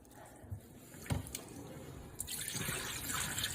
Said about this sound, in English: So I'm gonna work with it and drain it off.